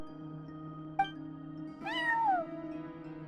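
In Genshin Impact, a cat at an inn's front desk gives one clear, drawn-out meow that bends downward, standing above soft background game music with no voices.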